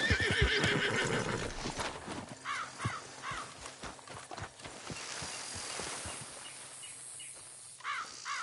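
In a PS4 video game a horse whinnies several times over a steady clip-clop of hooves, the neighs rising sharply in short bursts against a continuous in-game background.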